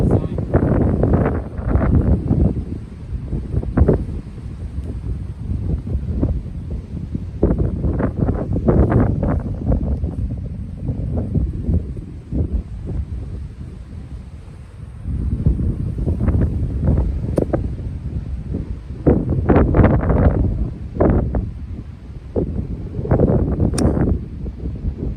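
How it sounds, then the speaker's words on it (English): Gusty, swirling wind buffets the microphone on a golf course, rising and falling in loud low rumbling bursts with brief lulls, while someone talks intermittently over it. "the wind is really swirling around up here today"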